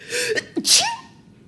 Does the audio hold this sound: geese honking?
no